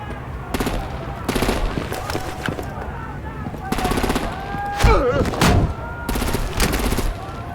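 Heavy automatic gunfire in the Batman Telltale Series video game, on Xbox, with rapid bursts of machine-gun shots in repeated volleys separated by short lulls, loud and close, with scattered voices and game effects mixed in.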